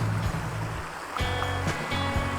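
River water flowing at Kali Mandala, Karang Sambung, Kebumen, Central Java, a close steady rushing wash with a few splashy surges.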